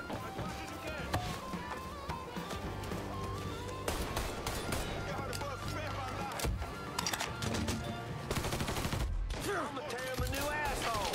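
Gunfire in the Mafia crime video game, a rapid series of sharp shots and bursts mixed with game music and action sounds, with a voice talking over parts of the clip.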